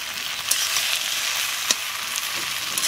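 Mashed potato fries in a pan with a steady, hissing sizzle and a few faint stirring knocks, with no voices.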